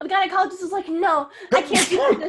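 A person talks, then lets out a sharp, loud sneeze with a breathy burst, followed by more talking.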